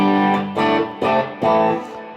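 Electric guitar played clean through a Fender "Dumble" Vibrolux amp with the delay switched off, three rich sustained chords ringing out one after another, loud and close with no talking.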